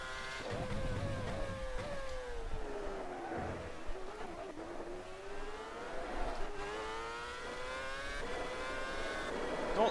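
A 2013 Red Bull RB9 Formula 1 car in rFactor 2 howls at high revs. Its tone falls under braking and rises again through the gears in sweeping waves, loud and close throughout.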